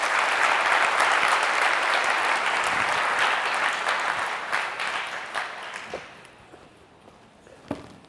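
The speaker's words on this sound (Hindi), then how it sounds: "आए जोरदार तालियों से खुदा के नाम को जवाब दें" A church congregation claps loudly in a dense burst that holds for several seconds, then thins into scattered, fading claps before a last lone clap.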